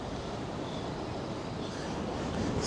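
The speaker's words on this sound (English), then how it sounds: "Still super windy out. I know you guys can hear that wind." Strong wind batters a fishing pier at Saint Simons Island, Georgia, a loud constant rushing buffet over the microphone with no voices.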